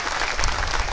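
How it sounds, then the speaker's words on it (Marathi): A crowd at a swearing-in ceremony for a newly elected town council president claps, a brief dense burst of applause heard close and steady. "जोरदार टाळ्या वाजवा."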